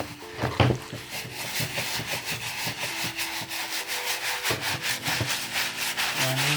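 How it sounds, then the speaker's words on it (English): A brush scrubs a sneaker with Angelus Easy Cleaner and water, a fast, rhythmic back-and-forth bristle rasp close to the microphone, steady and fairly loud throughout. "give it a good rub, good scrub"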